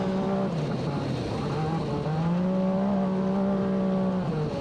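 A Can-Am UTV race car roars continuously while racing through a twisty off-road section, its engine note holding high and rising and dipping as the driver stays on the throttle, loud and close with no talk.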